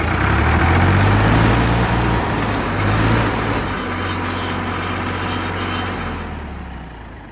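A Ford 3600 tractor engine runs close by with a loud, steady diesel rumble that slowly eases toward the end.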